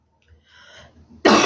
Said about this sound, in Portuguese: eu não vou aguentar ficar falando com essa tosse